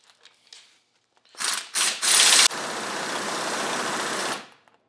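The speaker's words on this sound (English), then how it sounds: "take the U-joint now off the flange by using our press set tool" A press set tool forces a U-joint off a driveshaft flange, with a couple of short grinding bursts followed by a loud, sustained mechanical whirring that stops abruptly, close up and alone.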